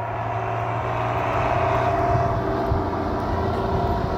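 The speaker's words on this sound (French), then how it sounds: "il y a tout un petit tracteur qui passe" A small tractor passing by outdoors, its steady engine drone loud and constant throughout with a low humming rumble and no break.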